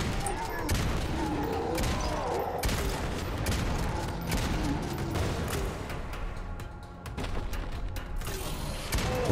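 Steady gunfire and mechanical clatter from the video game Necromunda: Hired Gun, with repeated bursts and crackling shots over a busy combat soundscape at moderate level, and a voice talking now and then.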